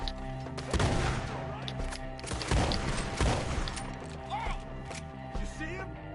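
Gunfire in the video game Red Dead Redemption 2 during a fight with enemies up in trees, several sharp shots ringing out over game music and shouted voices.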